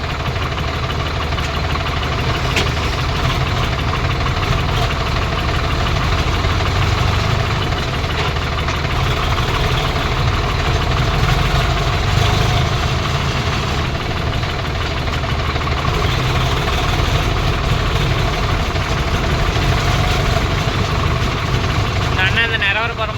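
A tractor engine idles steadily, a constant close low rumble with a knocking mechanical texture and no pauses, on a farm setting with Indo Farm 3048 and Swaraj 855 FE tractors.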